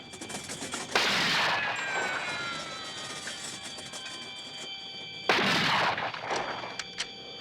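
Film rifle fire at target practice, from the 1973 movie Executive Action: two loud, sharp shots about four seconds apart, each with a long echoing tail that decays into quiet outdoor ambience.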